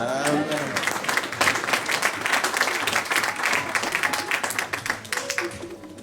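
A church congregation bursts into sustained, dense applause to acclaim the Lord, many hands clapping together in a loud continuous wash, with voices and cheers mixed in and a speaker's voice faintly audible.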